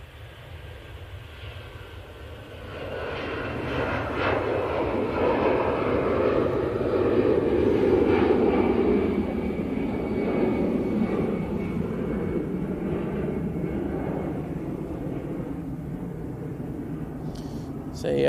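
easyJet Airbus A320-200 on its takeoff roll at Manchester Airport, a rising engine roar that builds after a few seconds and stays strong before easing slightly, with a voice talking over it.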